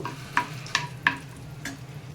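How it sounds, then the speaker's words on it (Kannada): Cashew nuts frying in a pan, with several sharp stirring scrapes over a soft, steady sizzle, close and fairly quiet, no voices. "ಇಲ್ಲಿ ಈ ಥರ ಗೋಡಂಬಿ ನಮಗೆ ಕಲರ್ ಚೇಂಜ್ ಆಗೋರಿಗೆ ಫ್ರೈ ಮಾಡ್ಕೊಂಡ್ರೆ ಸಾಕು"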